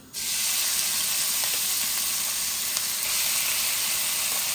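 Onion hits hot oil with browned cumin and bursts into a loud, continuous sizzle that starts abruptly and holds steady and close throughout.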